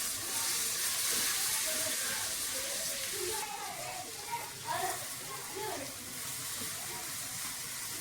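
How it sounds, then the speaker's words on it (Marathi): Grated carrots hit a hot pan with a steady hiss of sizzling and steam, loudest at first and then settling into a softer frying crackle, with a voice talking partway through. "आता ही गाजर याच्यात टाका।"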